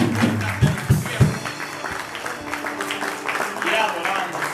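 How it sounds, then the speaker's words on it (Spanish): A church congregation applauds during a worship service, several strong claps up front giving way to a steady crowd clapping wash, with voices and a leader talking over it. "Con un aplauso que se oiga."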